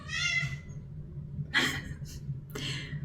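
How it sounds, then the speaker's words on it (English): A pet cat meows indoors, three separate drawn-out cries spaced across the stretch, close by and fairly soft over a quiet room hum. "my cat is singing a song, Laz"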